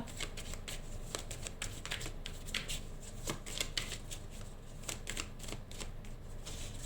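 Tarot cards riffle and slap through a steady shuffle, a dense run of crisp flicks and taps heard up close with no voices.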